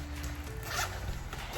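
A zipper on a Neiman Marcus bag is pulled in one short, close scratchy run, heard alone and fairly quiet.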